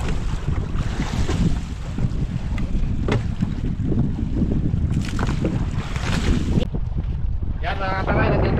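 Strong wind buffets the microphone at sea while big waves slap and rush around a small boat, a loud constant roar with surging bursts, and a voice speaks over it.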